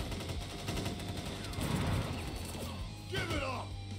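Troop gunfire in the video game Crisis Core Final Fantasy VII Reunion: rapid fusillade-like rattling of many guns over a steady rumbling battle background, fairly faint, with a sharper burst near the end.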